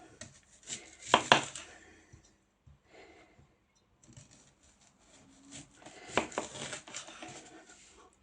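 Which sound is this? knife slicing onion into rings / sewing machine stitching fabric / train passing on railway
knife slicing onion into rings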